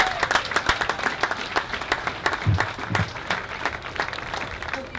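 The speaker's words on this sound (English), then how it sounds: "So let's give the city a round of applause once again." Crowd applause at an outdoor park opening, a dense rush of many hands clapping at a steady, moderately loud level for several seconds, with faint voices beneath.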